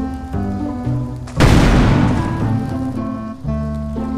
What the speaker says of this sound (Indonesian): Ayo Boboiboy, turun Boboiboy sebelum meledak.